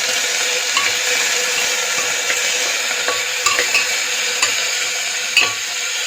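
Chicken pieces for boiled chicken sizzle in a pan as a utensil stirs them, giving a constant loud frying hiss with sporadic metallic scrapes and taps close up.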